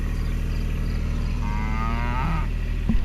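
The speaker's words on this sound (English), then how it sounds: "Okay, here we are back at the cows." Cattle mooing on a farm during a feeding and water check, a long drawn-out low moo rising near the end over a steady background hum, fairly close and loud with no talking.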